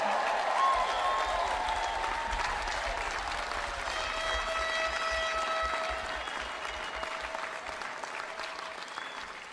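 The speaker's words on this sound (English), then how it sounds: "you can cheer for them again" A seated crowd at a College of Engineering graduation ceremony for the class of 2021 applauds in a dense, steady wash of clapping that slowly tapers off.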